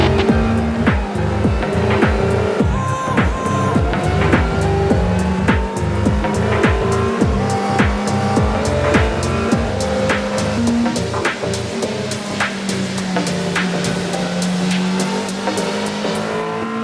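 GT race cars roar through a tight right-hand corner at a circuit on a congested start, their engines loud and layered as several cars pass in quick succession with rising and falling revs.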